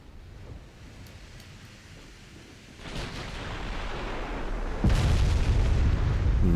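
Battleship main guns firing salvos in a Spanish dreadnought naval campaign game, heavy booms building over a rumbling sea-and-wind bed, with a loud close blast near the end.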